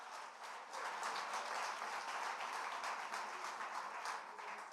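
A church congregation claps during a celebration service, a dense, steady round of applause lasting several seconds, heard at moderate distance with a faint murmur underneath.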